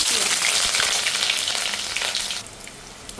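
Onion hitting hot oil in a pan for a Bangla-style chicken dish, giving a loud, bright hiss that settles to a quieter sizzle after a couple of seconds.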